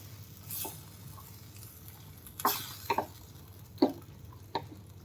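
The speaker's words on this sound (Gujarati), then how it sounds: "હવે એમાં આપણે આ બાફેલા ચણા છે એને એડ કરવાના છે, અને બધું જ સારી રીતે મિક્સ કરવાનું છે." Boiled chickpeas being stirred into cooked spices in a pan for Mumbai-style chana chaat, a low sizzle underneath with a handful of scraping, clacking spoon strokes spaced out across the moment.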